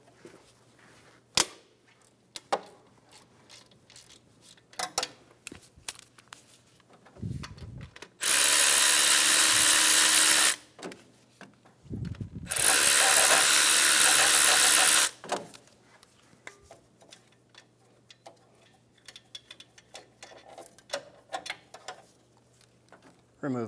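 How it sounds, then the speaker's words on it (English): Removing the top alternator bolt on a 2013-2017 Honda Accord with a 14 mm socket, heard as two long, loud, steady bursts of a powered tool, each about two to three seconds, among scattered clicks and clanks from the work. "Using a 14 millimeter socket, we're going to remove the top alternator bolt."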